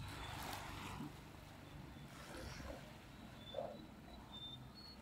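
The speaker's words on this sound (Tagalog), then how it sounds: "Sarap pakinggan ng alon sa tabing dagat" Gentle waves washing on the Batangas bayshore near the pier at dusk during low tide, a faint, continuous surf wash overlaid by wind buffeting the microphone, with no talk.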